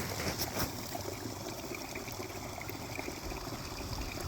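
Water trickles steadily in a backyard koi pond after ice on the surface has been hammered open, a faint continuous flowing sound with no voices.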